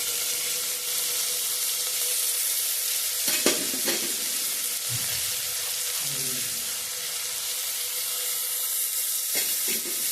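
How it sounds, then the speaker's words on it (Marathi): Sprouted mung beans sauté with turmeric in a hot pan, a steady close sizzle with occasional spoon scrapes and stirring clatter, and no voices. "किंचित व्यवस्थित परतून घ्यायचे आणि ह्यामध्ये मोड आलेले मूग घालायचे"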